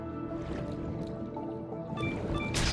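Watery ambience in the video game Paranormasight: The Mermaid's Curse, with soft sloshing and dripping over a low, steady tonal bed and a brighter splash near the end.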